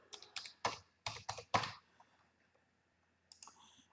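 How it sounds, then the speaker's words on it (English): Quick bursts of computer keyboard keystrokes, a cluster of close, crisp clicks as a password is typed, then a pause and a few more taps, in a quiet room. "And I'm gonna type in my password."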